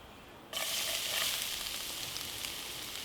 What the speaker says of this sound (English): So going straight in with the garlic and the shallots and the chili all in one time